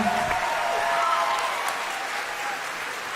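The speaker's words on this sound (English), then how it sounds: "Let's give a round of applause for our guest from The Thing" A theater audience gives a dense, continuous round of applause for guests from The Thing, even and sustained with faint voices underneath.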